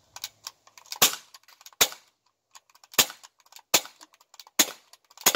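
Sharp BB gun shots fired at a water bottle, five loud cracks spaced about a second apart with light clicks and handling noise between them, no talking.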